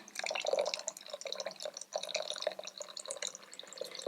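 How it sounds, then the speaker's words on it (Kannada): Water poured into a small amount of curd for porridge, soft splashing and dripping trickle close by, irregular and fairly quiet, with no talk. "ನಾನು ನೀರನ್ನು ಆ್ಯಡ್ ಮಾಡ್ಕೊಳ್ತಾ ಇದ್ದೀನಿ"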